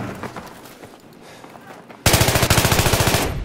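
AEK assault rifle firing in Battlefield 3: after a quieter stretch of faint game noise, a loud, rapid automatic burst of evenly spaced shots runs for over a second.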